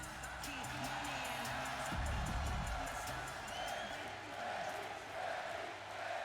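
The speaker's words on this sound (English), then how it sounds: "This crowd firmly behind Becky Lynch" A virtual arena crowd in the wrestling game WWE 2K23 cheers and roars behind a Becky Lynch versus B-Fab match entrance, a steady crowd wash with a louder surge midway.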